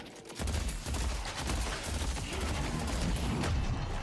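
Geist bombs going off in a video game, a dense, continuous barrage of overlapping explosive bursts and crackling blasts that starts after a short quiet moment and stays loud throughout, with no voices.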